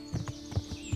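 Horse hooves clip-clop at a steady walking rhythm in the medieval game Kingdom Come: Deliverance, several soft close thuds over faint ambient background while climbing a large hill.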